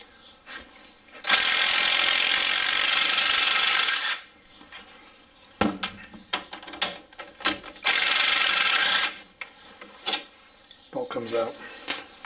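A ratchet wrench works a 15mm pinch bolt on a Ford Focus front suspension during a shock and strut change, with two long bursts of dense clicking followed by shorter intermittent ratchet clicks and scrapes, all close up.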